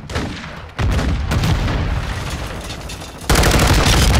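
Gunfire in Call of Duty Modern Warfare II: loud, dense bursts of automatic fire with heavy booming impacts, continuous and close, building to an even louder volley near the end.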